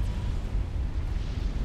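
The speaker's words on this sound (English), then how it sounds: "What a wonderful explosion that is." A massive explosion in the Supreme Commander strategy game rumbles as a deep, steady low roar with crackling debris, loud and continuous throughout, without any talk.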